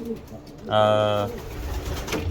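Pigeons coo in the cock section of a racing pigeon loft, one clear, resonant coo rising close by amid faint background rustle, with a voice speaking softly around it.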